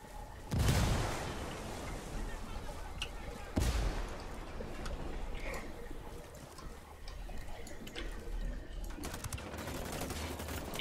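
A grenade goes off in a tactical shooter game, a sharp, heavy blast followed by a second similar boom a few seconds later, each with a rumbling tail over ongoing low gunfire and ambient game noise.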